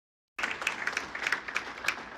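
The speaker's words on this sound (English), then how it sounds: "Ooh, claps." A room applauds at a baseball press conference announcing a Pittsburgh Pirates signing, with steady clapping from many hands rising suddenly after a silent start and holding at moderate volume.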